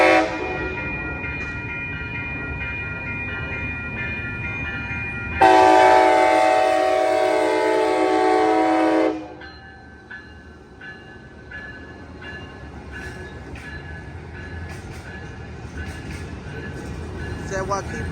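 An Amtrak Capitol Corridor passenger train led by an SC44 Charger passes 98th Ave in Oakland, California, sounding a loud multi-tone horn blast for several seconds over rumbling wheels and rail noise, then continues rolling by more quietly.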